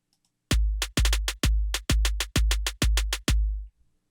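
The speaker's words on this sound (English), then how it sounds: "So the snare I'm using just sounds like this." Seven punchy electronic snare hits from a sampler, each loud with a sharp attack and a short decay, spaced in a steady even rhythm with no other sound.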